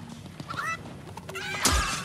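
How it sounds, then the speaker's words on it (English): A chicken in a multiplayer shooter video game lets out a short, sharp squawking cluck near the end, preceded by softer scattered game noises and effects. "I'm getting attacked by a chicken."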